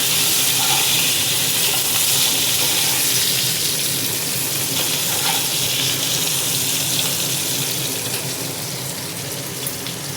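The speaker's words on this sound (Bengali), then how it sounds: "বেগুনটা একটু ভেজে নেবো।" Eggplant fries in a pan with green chillies for a hilsa fish curry, a loud, steady hiss and sizzle of hot oil filling the whole stretch without a break.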